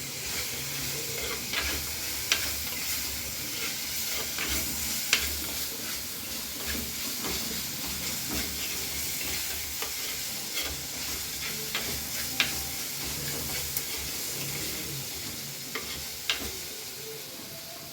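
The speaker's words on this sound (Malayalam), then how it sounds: "ഇങ്ങനെ ബ്രൗൺ കളറായി വരണം കേട്ടോ ഉള്ളി. പച്ചമണമൊക്കെ ഒന്ന് മാറുന്നവരെ നന്നായിട്ട് നമ്മൾ ഇളക്കിക്കൊണ്ടിരിക്കുക." Onions sizzle and hiss steadily in a pan for prawn roast, browning while a spoon scrapes and stirs through them with scattered sharp clicks, close and continuous without any talking.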